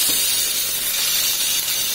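Pork frying over medium heat in a home kitchen pan, giving an even, loud, continuous sizzle and hiss with no pauses and no talk over it.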